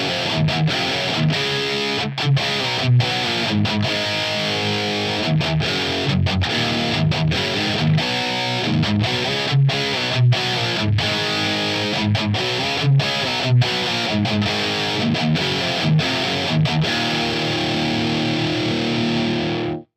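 Electric guitar on an amp's distortion channel with a Tube Screamer pedal engaged, playing a steady chugging, palm-muted riff with a tight, saturated, compressed tone that continues for about twenty seconds with no talking.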